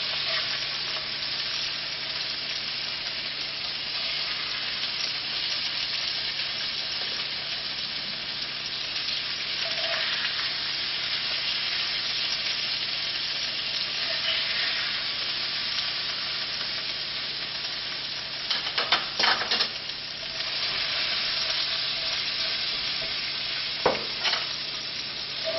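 Onions frying in a hot pan give a long, steady, dense sizzle, with a few spatula scrapes and clinks surfacing midway and toward the end, close and even in level, with no voices.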